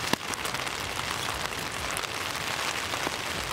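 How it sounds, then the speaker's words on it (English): Heavy rain pours steadily onto surfaces outdoors, a dense, even hiss with scattered nearby drops that continues throughout. "It is raining really hard right now"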